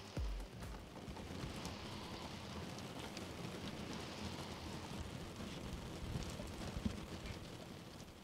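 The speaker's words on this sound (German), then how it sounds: "Krass, der Regen. Der hört und hört nicht auf." Heavy rain pouring down steadily outdoors, a dense continuous hiss of drops with no voices.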